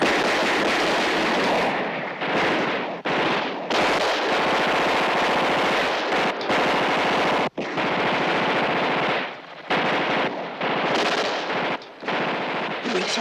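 Bursts of machine gun fire from a war action movie rattle loudly and close, in repeated sustained volleys broken by short gaps, with shouting voices mixed in.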